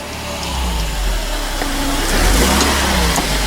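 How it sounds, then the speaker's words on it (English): A 1991 Mercedes W124 230CE petrol engine running nearby, a loud low steady idle with slight swells, heard alone without voices. "Baz, could you keep it running, please, and we'll pop the hood so they can see what the engine's like when it's starting."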